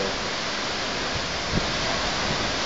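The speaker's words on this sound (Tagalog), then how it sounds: "This is one heck of a falls." Aw-asen Falls pours inside a cave, a dense, loud, unbroken roar of falling water that fills the space, with a brief splash-like burst midway.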